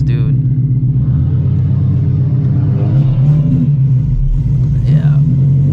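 A street car on tiny tires revs hard and launches from a dig, its deep engine rumble loud and steady throughout, with faint voices in the background.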